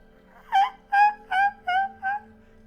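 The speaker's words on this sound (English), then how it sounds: "much closer, you hear the sound of a hawk" A bird's call, heard in a fantasy tabletop story setting, repeats five times in a steady rhythm of harsh, nasal cries over a low background hum, with no speech.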